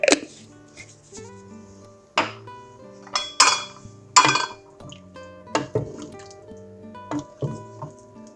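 A ladle scrapes and clinks against a cooking pot while serving aloo gosht, with sharp metallic knocks and taps spaced irregularly over musical tones underneath.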